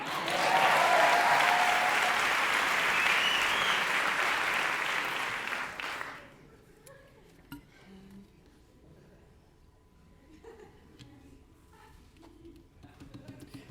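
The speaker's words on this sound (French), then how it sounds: "Et vous pouvez applaudir le premier changement rapide de la soirée." Loud, dense applause from a theatre audience at an evening stage show for a quick costume change, sustained for about six seconds then cutting off into a quiet room with faint movement.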